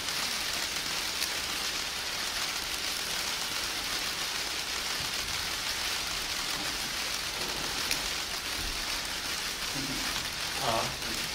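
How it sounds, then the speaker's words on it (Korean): Steady rain hisses down without a break, a continuous wash of drops on a surface, with faint voices briefly stirring near the end. "아, 이 소리가 되게 좋네. 빗소리가."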